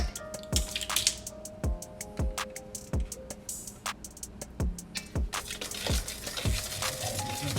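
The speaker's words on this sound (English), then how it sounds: "ready to add the red food coloring. And again, we're adding 3 tablespoons." Red food coloring, three tablespoons, is added to red velvet cake batter in a bowl, making a series of soft wet drips and squishy plops at a slow, irregular pace, close by.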